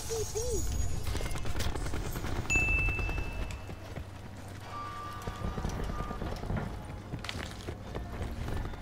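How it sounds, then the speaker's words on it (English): Footsteps from a player in Black Ops 4 thud along under heavy, dense game noise with gunfire and effects, a rapid cluttered rhythm running throughout. "I hear extra footsteps"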